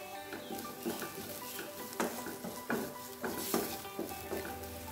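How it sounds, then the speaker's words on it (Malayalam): Grated coconut is stirred into a chilli-powder-spiced green gram stir-fry in a pan: quiet sizzling with a regular rhythm of spoon strokes scraping through the mixture. "തേങ്ങ ഇട്ട ശേഷം 1 മിനിറ്റ് ഒന്ന് ഇളക്കി കൊടുക്കുക."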